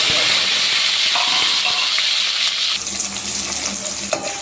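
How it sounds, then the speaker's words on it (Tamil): Chopped tomatoes and onions fry on high heat in oiled pan for kara kuzhambu, a loud continuous hissing sizzle that settles slightly lower partway through, with occasional small pops and stirring clatter, close up. "இப்போது தக்காளி வெங்காயம் இதை போட்டு நல்லா அடுப்பு பெருசாக வச்சுட்டு நான் இப்போ ஃப்ரை பண்ணுறேன்"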